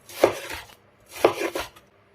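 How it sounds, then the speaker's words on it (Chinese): Pork foreleg meat is chopped into mince in two close bursts of blade knocks on a board, about a second apart, each a quick cluster of thuds followed by a short pause, with no talk. "最后改刀给它剁成肉末，最后我们给它剁成像这样的肉馅就可以了。"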